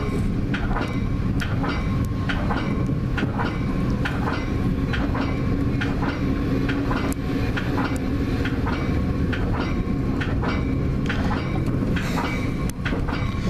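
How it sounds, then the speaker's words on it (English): A Metra BNSF line commuter train leaves Chicago Union Station with a loud, steady rumble and a run of regular wheel clicks over rail joints, close by and with no one speaking. "There's a Metro leaving the station right now."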